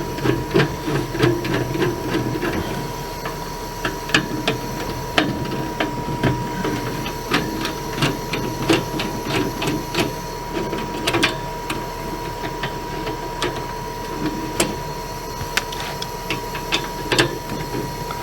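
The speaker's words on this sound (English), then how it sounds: "That noise you're hearing is the furnace." An RV furnace fan runs nearby with a steady whirring drone, overlaid by a rapid, regular ticking and clicking rhythm that continues evenly throughout.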